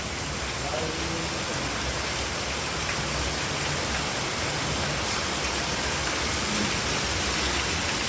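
A downpour of heavy first monsoon rain roars as an unbroken, even wash of noise, loud and constant throughout without pauses.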